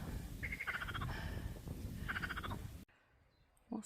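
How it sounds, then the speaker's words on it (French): Frogs croaking near a field path in the French countryside, repeated rattling calls in two bursts over steady outdoor rumble, the second burst fading before a sudden quiet. "Retour des grenouilles."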